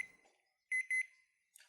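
A game show buzzer sounds twice in quick succession, two short, loud, electronic beeps following a quiet stretch, with a faint click afterward.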